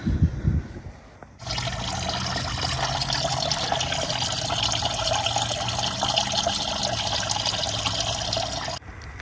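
Old coolant pours steadily out of a Honda Accord 1.5T engine, a continuous close splashing gush of liquid lasting several seconds before it cuts off, with no talk over it.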